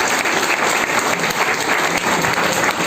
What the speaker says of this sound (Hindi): मैं चाहूंगा एक बार इन सारे लोगों के लिए जोरदार ताली।